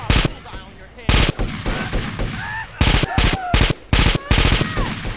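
Bursts of loud automatic gunfire from the video game GTA San Andreas, several rapid volleys in short spurts separated by brief pauses, with sound-effect tones in between.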